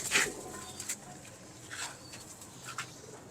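Lakhi breed pigeons cooing softly in a loft, a few faint low coos scattered among light chirps and rustling, quiet and somewhat distant with no talking.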